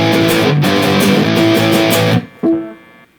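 Electric guitar driven through an MXR Dookie Drive pedal with gain at 3 o'clock, a loud, dense distorted chord ringing for about two seconds, then cut off, followed by a brief noisy restrike that fades.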